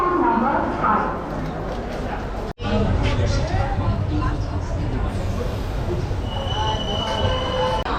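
A Puri–Kolkata special passenger train (03102) moves near Bhubaneswar station, its wheels letting out long high squeals over a loud rolling rumble, with people talking in the background.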